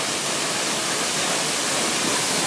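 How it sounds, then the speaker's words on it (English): Waterfalls on Vanua Lava island, Vanuatu: a steady, dense roar of falling water, loud and unbroken throughout, with no voices over it. "And we're at the waterfalls."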